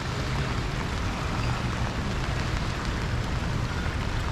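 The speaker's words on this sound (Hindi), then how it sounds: "एक तो बारिश हो रही है, बारिश से मौसम और प्यारा हो गया है" Steady rain falls outside a mosque in Kuala Lumpur, a dense, even hiss of drops on surfaces that continues without pause and with no voices.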